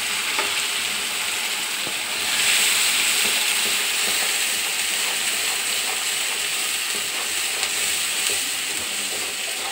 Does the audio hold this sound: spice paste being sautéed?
yes